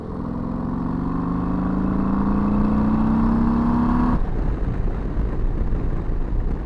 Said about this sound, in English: A little half throttle pull.